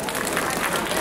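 An audience at a school's tenth-anniversary celebration applauds a graduate with dense, steady clapping filling the whole moment.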